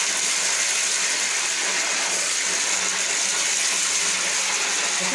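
Water runs in a steady, loud, unbroken rush during a long-hair wash.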